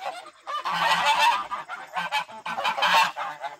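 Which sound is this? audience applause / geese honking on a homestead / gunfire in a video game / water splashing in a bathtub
geese honking on a homestead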